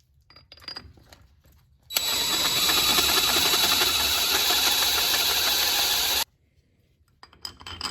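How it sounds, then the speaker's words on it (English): Metal being worked on a heavy-duty front shackle hanger for a Squarebody Chevy/GMC truck: a loud, harsh continuous grinding burst of about four seconds, starting and stopping abruptly between quieter scraping sounds. "I got a 1/2 round file, a round file."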